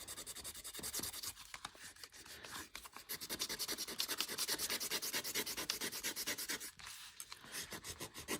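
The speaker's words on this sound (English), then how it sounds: "Maybe let's just do a little extra burnishing here." Paper from a thrifted wall mural being burnished down by hand onto an art journal page, a steady close rubbing and scraping with rhythmic strokes that continues nearly throughout, briefly easing at moments.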